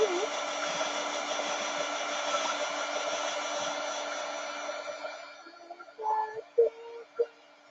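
A dryer blows steadily over a wet doodle journal page for about five seconds, then shuts off. A few soft handling sounds follow.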